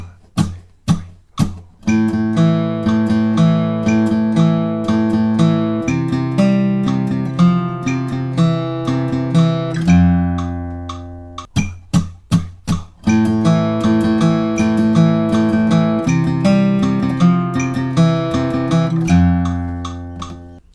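An electric guitar plays a pre-chorus riff twice, first at 75% then full tempo, with sharp picked attacks and ringing notes, a short pause between passes.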